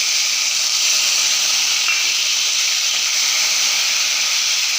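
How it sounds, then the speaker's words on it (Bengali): Cashews and raisins frying in hot refined oil and ghee with whole garam masala, a steady loud hissing sizzle that holds unbroken from start to finish. "কাজু কিশমিশটা ভাজা ভাজা হচ্ছে"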